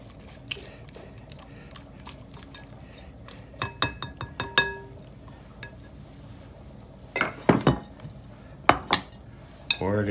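Caesar salad being tossed by hand with dressing in a metal bowl, giving scattered clinks and scraping bursts in clusters, louder near the middle and end, with no talk.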